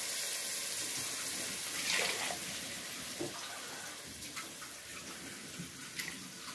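Steady rush of water pouring from a tap into a cooking pot with rice and vermicelli, continuous and moderately loud, with a few small clinks and splashes partway through.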